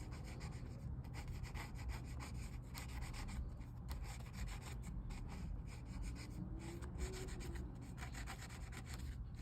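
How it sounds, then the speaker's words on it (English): Sandpaper rubbing across a dented Kawasaki ZX6R motorcycle panel during repair before painting, a steady continuous scratchy abrasion with fast repeated strokes, close and moderately quiet, with no talking. "This time I used a lot more sandpapers to get the scratches down smoother"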